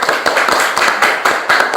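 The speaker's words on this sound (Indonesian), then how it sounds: "Iya, bagus, tepuk tangan dulu." Schoolchildren in a classroom clapping together in a quick, steady rhythm of sharp hand claps, loud and close, with no talking over it.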